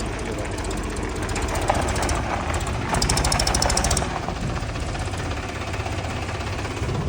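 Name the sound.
Mahindra Arjun tractor and JCB 3DX backhoe engine running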